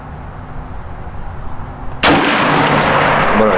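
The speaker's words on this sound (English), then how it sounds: "Here comes the second shot." A single sharp rifle shot from a Smith & Wesson M&P10 fitted with a scope, loud and close, cracking suddenly after a quiet outdoor pause and trailing into a long ringing echo.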